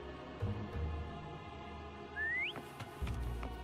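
A short rising whistle from a character in the video game Wuthering Waves, a single clear note sliding upward over quiet ambient game sound and soft thuds.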